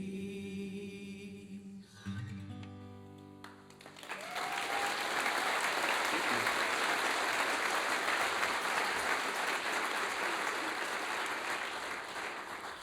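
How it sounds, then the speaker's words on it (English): After a sung Christmas carol ends on sustained notes, the audience at a Christmas radio show breaks into loud, sustained applause that fills the room and slowly tapers toward the end. "I want a big round of applause for John Sarty and everyone who puts together the Cold River Radio Show."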